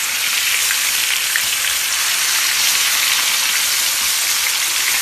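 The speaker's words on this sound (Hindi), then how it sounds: "थोड़ा सा हम चिकन को भून लेंगे" Marinated chicken with cumin fries in a hot pan over medium-high flame, giving a loud, dense, continuous crackling sizzle that stays steady throughout with no talking.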